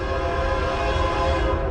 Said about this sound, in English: there's always a train going by